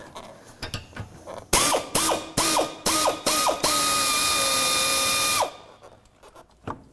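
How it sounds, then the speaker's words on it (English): A ratchet fitted with a 10mm socket backs out front bumper cover bolts on a 2007-17 Jeep Wrangler, several quick ratcheting bursts at close range followed by one longer continuous run that then stops. "Using a 10mm socket, we're going to go ahead and remove these."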